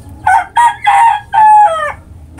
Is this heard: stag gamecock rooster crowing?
yes